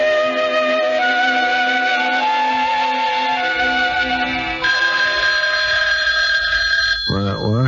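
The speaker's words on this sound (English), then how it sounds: "It's not the alarm this time, darling. It's the phone, dummy." A telephone bell rings in a steady, loud trilling pattern under music, inside a home in an early-1980s television episode, with a brief burst of a different sound near the end and no clear talk over the ring.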